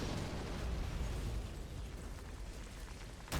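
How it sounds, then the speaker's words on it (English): Artillery shells pounding a mortar bunker in a video game, a continuous rumbling barrage of booms and blasts, dense and steady throughout with a sharp impact at the very end. "more artillery coming down on the mortar bunker"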